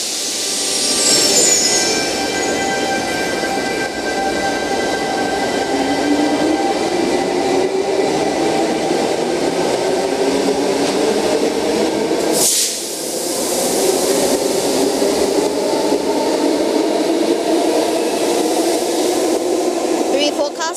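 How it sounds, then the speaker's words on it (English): A Sydney Tangara electric train pulls away from platform 2 at Edgecliff station, its motor whine rising steadily in pitch through a loud, continuous underground rumble, with a brief dip partway through before the drone resumes. "the latest Tangara that you saw, departing platform number 2, Bondi Junction only"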